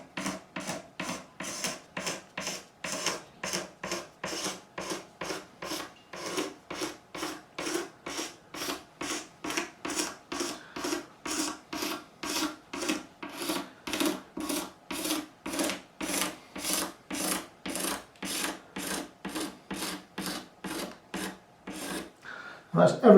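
Rhythmic back-and-forth scraping on the binding of a Gretsch G5422 12-string guitar, dozens of steady close rasping strokes at an even pace, with a couple of louder knocks at the very end.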